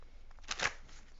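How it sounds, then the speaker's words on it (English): A deck of tarot cards is shuffled by hand, one quick soft riffle of papery flutter up close in a quiet room. "I'm just going to shuffle a little bit more."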